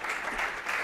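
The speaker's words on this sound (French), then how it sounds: "Merci Citylity, on peut l'applaudir." Audience applause after a startup pitch at a competition, a short, fairly quiet patch of steady clapping from the room.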